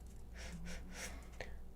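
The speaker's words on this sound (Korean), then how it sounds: "로미가 저 앞에서 코를 골고 있는데 소리가 들어가는지 모르겠네요" A pet dog snoring somewhere in front of the microphone, a few soft, breathy snorts and gasping breaths spaced irregularly over a quiet room hum, faint and alone with a brief click near the end.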